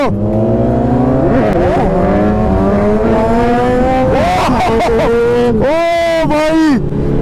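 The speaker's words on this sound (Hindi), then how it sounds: "अभी हम दोनों व्हीली मारने वाले हैं" Motorbikes rev hard while pulling wheelies on a snow trip, engines rising steadily in pitch, then a sharp rev drop and second surge near the end, loud and close with voices talking over it.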